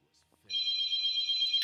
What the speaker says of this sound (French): Oh, téléphone.